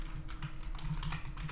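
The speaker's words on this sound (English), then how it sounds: "Hit 7 on my keyboard" Keys pressed on a computer keyboard during design work, heard as a few soft, close taps over a low steady hum.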